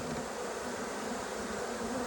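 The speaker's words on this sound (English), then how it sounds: "Ton of bees in here." Honey bees crowd inside a trap-out cone box, giving a continuous, even, close buzzing hum with no voices.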